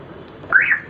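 Central locking chirp on a 2007 Honda Civic as the car locks, a single short rising electronic tone, close and clear over a quiet background.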